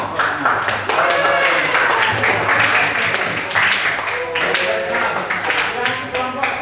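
In a classroom, students clap their hands together in a loud, close burst of applause with uneven, crisp slaps, while voices talk and call out over the clapping.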